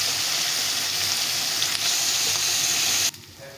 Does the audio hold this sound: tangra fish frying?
yes